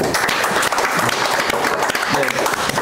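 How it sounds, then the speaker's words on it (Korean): Steady, dense applause from the audience at a Green Party candidate debate and meeting fills the whole stretch at an even loudness, with no clear talking over it. "박수 모시겠습니다."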